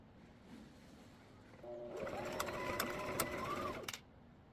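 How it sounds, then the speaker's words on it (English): A sewing machine stitches fabric around a small chapstick holder, a sustained mechanical whir of about two seconds that starts and stops abruptly over quiet room tone. "you're going to stitch all the way around except for a 3-inch gap so that you can flip it right side out"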